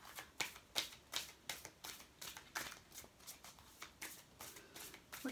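Playing cards being shuffled for a tarot-style card reading, a run of crisp riffling bursts repeating in a steady rhythm, close and fairly quiet, with no talking.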